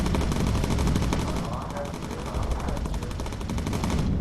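Bomber gunners in the video game Bomber Crew fire machine guns in continuous loud, rapid bursts that fill the whole stretch, with dense rattling shots and no pauses.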